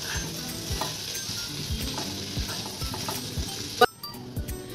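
A spatula stirs garam masala and salt into a mixture in a pan, giving a close steady sizzle with rhythmic scraping and light clinks that stop abruptly near the end before quieter stirring resumes.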